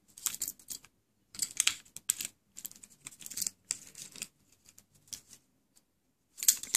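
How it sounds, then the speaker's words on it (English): Car keys for a Ford Transit Connect, with a small dongle attached, handled from a cargo work pants pocket: bursts of close, crisp metallic clicking and jangling separated by short silences, with no talking. "These car keys have a little dongle on them."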